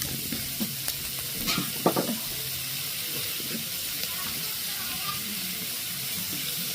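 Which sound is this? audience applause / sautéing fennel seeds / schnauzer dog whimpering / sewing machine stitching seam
sautéing fennel seeds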